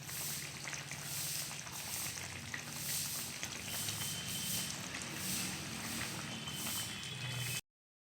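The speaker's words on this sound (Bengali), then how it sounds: "ভেজে রাখা ফুলকপিগুলোকে মাছের সঙ্গে ছেড়ে দেব এবং এগুলোকে ফুটতে দেব" Koi fish curry with fried cauliflower simmering in a pan, a soft steady bubbling sizzle with a gentle pulsing rhythm, close and alone, cutting off abruptly at the end.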